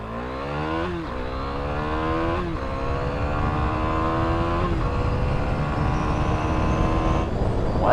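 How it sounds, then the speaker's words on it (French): A 2017 KTM Duke 390 single-cylinder motorcycle launching flat out from a standstill toward 100 km/h, engine screaming up through the revs with short dips at each quick gear change, loud and close with rushing wind underneath. "je vais vous faire un petit départ 0-100 km/h à fond"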